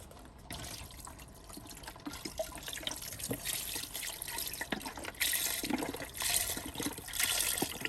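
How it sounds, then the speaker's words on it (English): Water pouring from a tap into a pot of duck gumbo being cooked in a barn, a steady close rushing flow that grows louder toward the end, with no talk. "We've added some more water."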